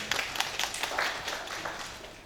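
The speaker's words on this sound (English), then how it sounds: "A big cheer to him" An audience at a mediation training session breaks into brief, scattered clapping, a loose patter of hands from a modest group of people that fades slightly toward the end.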